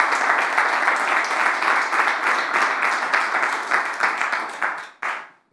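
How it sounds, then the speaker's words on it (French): Sustained applause from an audience at a press conference on youth employment, steady dense clapping for about five seconds before cutting off abruptly near the end. "Je pense qu'on peut applaudir."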